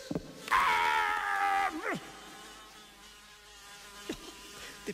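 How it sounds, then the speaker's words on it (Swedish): Ordinary houseflies buzz close by in a steady, loud drone for about a second and a half, with a quieter hum lingering afterward and a couple of faint clicks. "Bara vanliga flugor."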